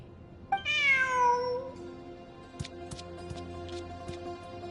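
A cat gives one clear, drawn-out meow close by, followed by quieter shuffling and small taps in a calm room.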